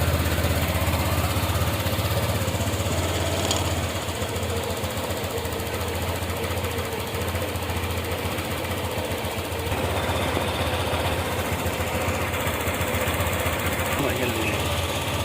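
A Honda Click 150i scooter engine idles steadily with a close, rough, knocking putter, while speech sounds over it.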